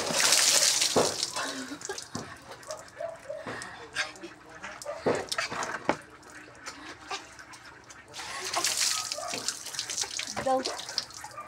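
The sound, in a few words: water running while bathing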